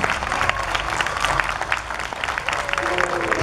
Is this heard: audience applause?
yes